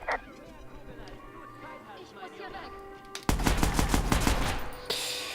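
Rifle gunfire in the Watch Dogs video game, a loud burst of rapid shots with a slower final shot, after a stretch of quieter game sound.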